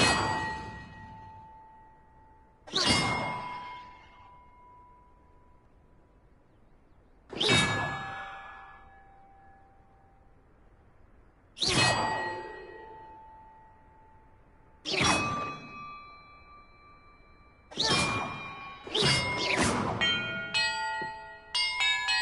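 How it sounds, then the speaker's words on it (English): Bells ring out in Hogwarts Legacy: about seven clear, resonant strikes, each ringing on and fading, spaced a few seconds apart before the last ones come in quicker succession. "Perhaps the map contains clues about the order I'm supposed to ring the bells in."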